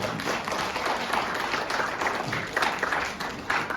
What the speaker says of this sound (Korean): 우리 신랑 신부가 너무 고생 많았다고 다시 한번 박수 보내주시면 감사하겠습니다